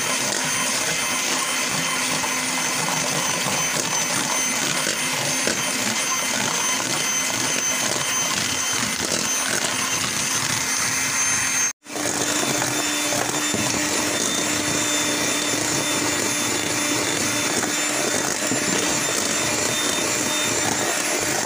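An electric hand mixer beats sponge cake batter until foamy, a loud steady whir running almost without pause, with a brief cutout midway before the motor resumes.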